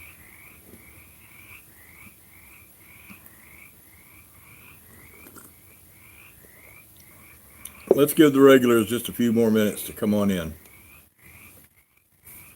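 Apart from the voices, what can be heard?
frogs croaking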